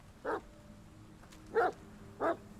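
Three short barks from a dog in The Medium video game, spaced irregularly across a couple of seconds at moderate loudness over a quiet background, with no speech.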